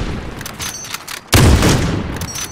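Gunfire in Call of Duty Modern Warfare, scattered snaps of distant shots followed by one loud, close blast that rings out and rumbles away.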